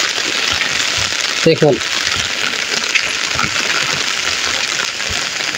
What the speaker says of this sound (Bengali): খুবই চমৎকার বৃষ্টি